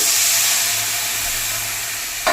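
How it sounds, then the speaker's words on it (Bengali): Water from rinsing a masala plate hits a pan of frying spice paste, giving a loud, steady broad hiss of sizzle and steam held close throughout, with a brief knock near the end. "এবারে থালাটা ধুয়ে মশলা ধোয়া জলটা কিছুটা দিয়ে দিব"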